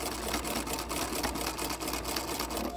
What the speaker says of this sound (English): now I'm going to back stitch it